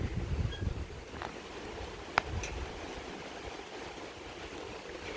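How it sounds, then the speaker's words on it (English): Wind gusting outdoors during beekeeping work beside a fire used to keep wax hot, a steady broadband rumble buffeting the microphone with a brief sharp knock near the middle. "It's really windy today."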